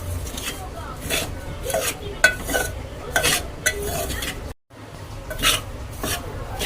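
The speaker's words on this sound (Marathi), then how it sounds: "मी खोबरा टाकूनच चांगलं जायला असं भाजून घेते" Grated coconut roasting in a pan while being stirred, with scraping and light sizzling, close and steady, a brief gap midway, and a voice speaking over it.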